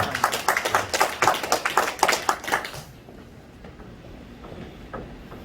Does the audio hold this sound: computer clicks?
no